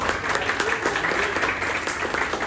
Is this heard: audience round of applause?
yes